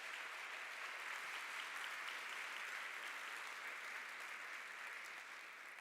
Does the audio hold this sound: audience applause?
yes